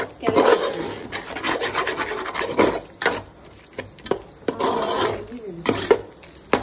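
A spoon stirs tomatoes with salt in a pan for mutton thalakari. The rasping scrapes come in repeated close strokes with brief pauses between them, and no one speaks.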